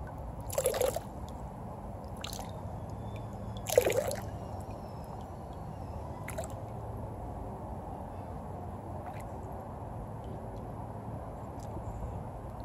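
Water being drawn out of a test tube during a water hardness test with a test kit, giving a few soft drips and trickles near the start and again around four seconds, with quieter liquid sounds between.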